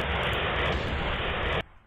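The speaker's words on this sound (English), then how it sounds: "Dude, that is a Harrier." Harrier jet in a DarkBASIC video game: a loud, steady, buzzy engine roar that holds for about a second and a half, then cuts off abruptly into near quiet.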